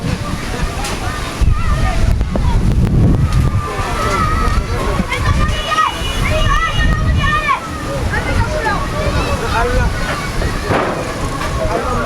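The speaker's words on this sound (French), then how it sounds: "Le vent interrompt ce point de presse improvisé." Wind gusts buffet a microphone outdoors during an improvised press briefing beside the Falémé river, producing loud, continuous low rumbling and thumping that swells and dips for the whole stretch, with scattered faint higher chirps on top.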